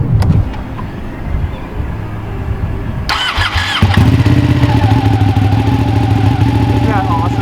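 A 2016 Ducati 959 Panigale L-twin motorcycle engine cranks and fires up, then settles into a loud, rumbling idle close by, with a voice briefly heard at the start.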